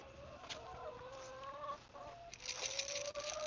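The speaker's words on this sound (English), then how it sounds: "Chickens!" Backyard chickens and a rooster cluck and call softly at close range, with several overlapping bird voices and a brief louder burst of clucking near the end, heard without talk.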